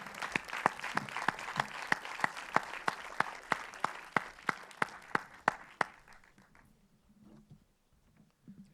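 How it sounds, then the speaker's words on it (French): Audience applause at a short-film festival award ceremony, with a prominent rhythmic unison clapping beat about three per second over a softer crowd patter, fading out after about six seconds into a quiet room with faint murmurs. "Allez, accompagnez-les en applaudissements"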